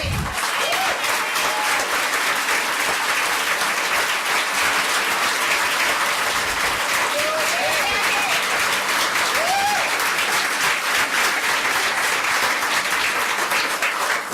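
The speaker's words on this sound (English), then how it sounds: "Thank you for giving her that round of applause." An audience at a political campaign announcement speech gives a full round of applause, steady dense clapping from a large crowd continuing unbroken at an even level throughout.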